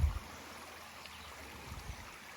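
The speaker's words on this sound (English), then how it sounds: "I call this brook Dill Brook" A small backyard brook flows with a faint, steady trickle, quiet and continuous, with a couple of soft low thumps.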